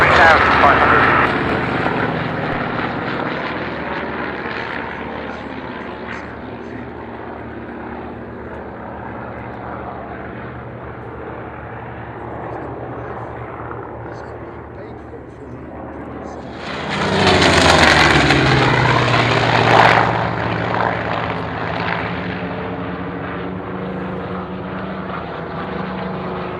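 At the Duxford air show, a vintage propeller aircraft drones overhead, with a louder pass swelling about two-thirds of the way through as the engine roar comes nearer, mixed with radio chatter and wind.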